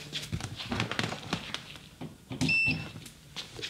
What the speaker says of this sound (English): Okay, beeps, lights are on.